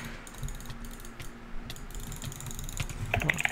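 Quick keyboard typing in a Minecraft-style game session, with clicky, irregular keystrokes running close and steady throughout, growing a little busier toward the end.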